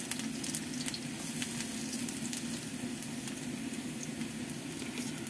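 Garlic sizzling and frying in a hot pan for a Filipino ground-meat sauté, a steady, close crackling hiss running evenly throughout with no talking.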